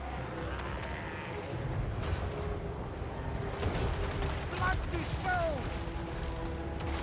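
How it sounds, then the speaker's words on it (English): Gunfire and battle noise from a Total War: Warhammer 3 game fight, a dense continuous roar of massed shots and clashing with rising bursts and whistling streaks, loud and unbroken throughout. "Ooh, the gunfire there."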